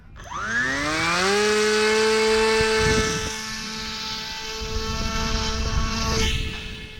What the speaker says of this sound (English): You don't want the propeller turning when you throw it?